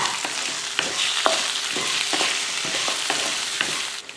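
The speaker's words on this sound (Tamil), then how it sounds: "4 பல் பூண்டு, ஒரு சின்ன துண்டு இஞ்சி, கொஞ்சமாக புளி சேர்த்து இதை வதக்கி விட்டுருவோம்." Garlic, ginger, tamarind and tomato sautéing in a pan for chutney, a continuous loud sizzle punctuated by sharp scraping stir strokes, close and with no voices.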